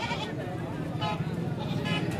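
A goat bleats at a crowded livestock market in Machiwal, its calls rising over a steady babble of voices and people talking nearby.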